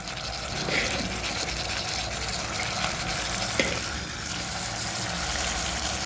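Water pours steadily into a pressure cooker with a constant rushing splash, moderately loud throughout.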